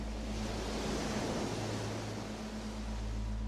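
Steady broadband wash of ocean surf, a continuous rushing roar with no distinct breaks, close and fairly loud throughout.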